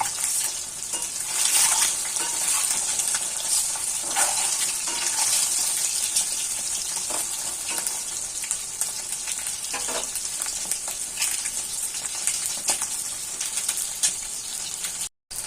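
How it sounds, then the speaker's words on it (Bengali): Torn-up eggs fry in hot oil in a pan for an egg curry. A steady, loud, close sizzle crackles throughout with occasional stirring, and nobody speaks. "ডিমগুলো ছিঁড়ে দেওয়ার কারণে কিন্তু একটুও তেল ছিটছে না ডিমের থেকে, খুব সুন্দরভাবে ভাজা হয়ে যাচ্ছে"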